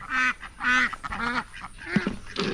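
Farm ducks quack loudly and close by, a run of four or five distinct nasal quacks at a steady pace, followed by softer scattered calls.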